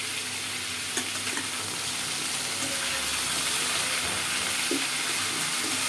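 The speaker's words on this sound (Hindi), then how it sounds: "देखिए, सब्जी आस्ते आस्ते भून रही है।" Mixed vegetables slowly frying in a covered pan, with no onion or garlic, for a Sawan vegetarian thali, giving a loud, steady sizzle and crackle throughout with occasional light stirring clicks.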